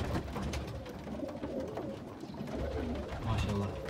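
Pigeons coo softly among chicks and parent birds in a loft, with low murmuring calls running throughout under someone talking nearby.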